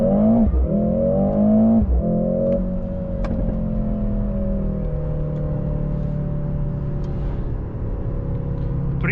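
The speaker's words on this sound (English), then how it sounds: "So let's go into the race mode and we can measure the acceleration as well." A 2024 Mercedes-AMG GLC 63 S E Performance, a four-cylinder hybrid SUV, accelerates hard in race mode, a loud close engine drone rising through the gears with shift breaks early on, then a sustained whirring rumble.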